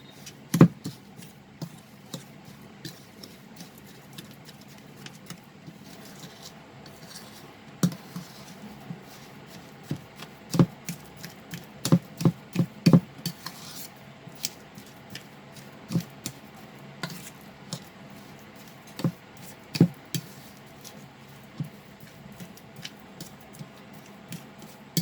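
A spoon mixes semolina into a ripe banana pakora batter with scattered sharp clicks and taps against the bowl, irregular and close, over a quiet background without talk.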